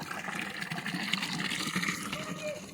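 Water runs steadily from a tap at a village farm in Pakistan where buffalo are fed, a continuous close gushing wash with voices talking faintly underneath.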